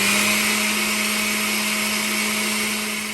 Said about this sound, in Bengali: বাকি ব্লেন্ডারটা এখন আমি করে নিই আবার।